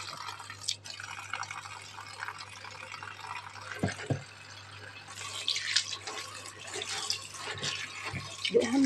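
Tap water runs and splashes in a kitchen sink as Swiss chard is washed, with intermittent dripping and handling noises that swell and fade close by.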